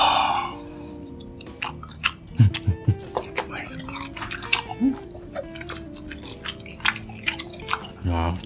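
Close, wet chewing and crunching of king crab leg meat, with repeated soft bites and moist clicks in an uneven rhythm, a brief murmur of voice near the start.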